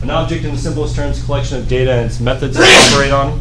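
A single sharp sneeze bursts out near the end of a university computer science lecture, cutting across a lecturer's steady speech close to the microphone.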